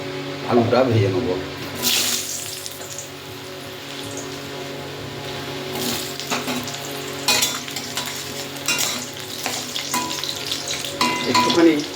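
Loud, crackling sizzle of potatoes frying in hot oil in a wok, with intermittent clatter of stirring and a voice speaking briefly.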